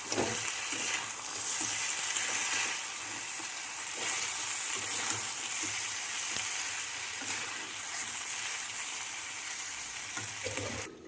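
Moong dal with vegetables fries loudly in a pan while being stirred, a constant close sizzle broken by periodic scraping strokes of the spoon.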